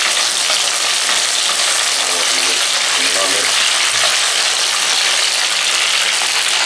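Capsicum sizzling in a pan for paneer shimla mirch, a loud, dense, continuous hiss of frying with occasional scraping and clinks from stirring, close up and without talk.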